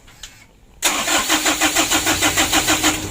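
A starter motor cranks a diesel engine that has a Bosch injection pump. After a faint click, a loud, even chug-chug of cranking strokes begins and repeats steadily without the engine catching.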